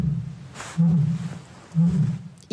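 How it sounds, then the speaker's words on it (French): A lioness in a zoo roars at dawn, heard from inside a nearby lodging: two loud, deep, drawn-out roars about a second apart over a quiet background. "c'est bien le rugissement de la lionne qui a réveillé cette famille à l'aube"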